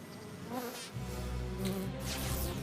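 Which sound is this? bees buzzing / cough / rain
bees buzzing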